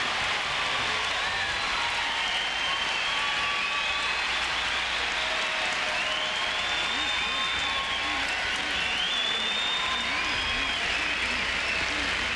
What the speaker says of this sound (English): This packed crowd is now getting on their feet in appreciation for the tennis that these two guys are offering